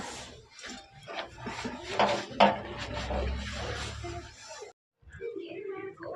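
Dishes and pots clatter and knock together during washing in a home kitchen, a busy run of close metallic clinks and scrapes, with a voice talking over them.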